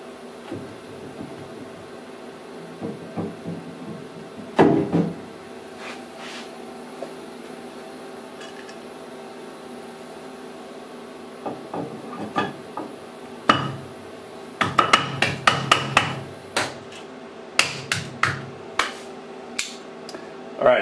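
Workshop clatter as a vise is removed and a Pierson pallet is fitted on a Tormach 1100MX mill: scattered metal knocks and clanks, with a busy cluster of sharp taps toward the end over a steady low hum.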